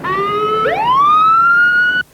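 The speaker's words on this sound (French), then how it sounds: "Bravo 104, actionnez votre sirène" A police siren wails loud and close, holding a steady tone before sweeping upward to a higher pitch and cutting off abruptly, with no talk.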